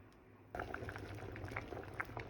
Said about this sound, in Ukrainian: Все чудово кипить.